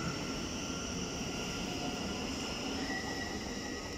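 A departing train at West Hampstead Thameslink station makes a steady rumbling drone, with a faint high squeal of wheels running along the rails.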